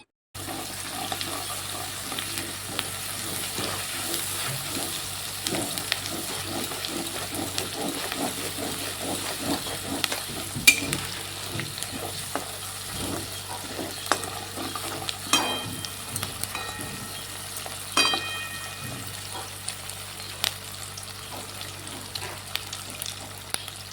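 Milk cream heating in a wok to make ghee bubbles and sizzles steadily up close, with scraping stirring strokes and occasional clinks throughout.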